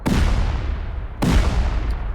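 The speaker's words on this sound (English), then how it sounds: "C4 going off here." Two heavy C4 blasts go off in a Rust raid during a 5v5 tournament, each a sudden loud boom with a long rumbling tail, the second arriving just over a second after the first.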